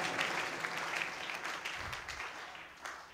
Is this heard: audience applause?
yes